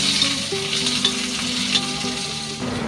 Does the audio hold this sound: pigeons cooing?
no